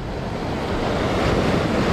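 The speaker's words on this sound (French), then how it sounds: "Regarde ça, les vagues qu'il y a là." Rough sea waves wash steadily against the shore with strong wind buffeting the microphone, a continuous loud roar during shore fishing for squid and cuttlefish.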